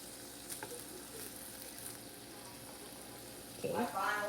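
Bacon frying in a pan gives a quiet, steady sizzle throughout, with a few faint clicks and a louder burst of crackling and voice-like sound near the end.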